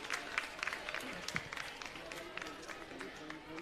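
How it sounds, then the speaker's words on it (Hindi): An audience at a government school event in Delhi applauds to welcome the education director and an additional director, a dense patter of clapping mixed with crowd murmur and voices throughout. "एक बार जोरदार तालियों से हम सब मिलकर अभिनंदन और स्वागत करें।"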